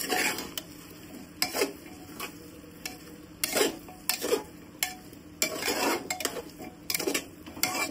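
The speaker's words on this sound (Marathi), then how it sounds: "आता हे पुन्हा आपण मिक्स करून घेऊयात व्यवस्थित सर्व भाजी." Pav bhaji vegetables being mixed in a pan, with intermittent clattering scrapes and knocks of a spoon against the metal over a faint sizzle, close and moderately quiet, with no talking.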